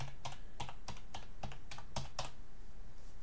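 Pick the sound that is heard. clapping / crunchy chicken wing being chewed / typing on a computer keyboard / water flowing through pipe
typing on a computer keyboard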